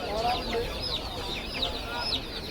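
Busy chorus of chickens clucking and squawking at a market, several birds at once, including native and laying hens, with a steady murmur of background noise around them.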